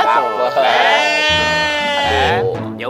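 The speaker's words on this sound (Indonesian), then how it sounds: "Kita bawa kambing ini ke kelompoknya." A goat being led back to its herd gives a long, loud, wavering bleat close by, with rougher lower sounds mixed in near the end.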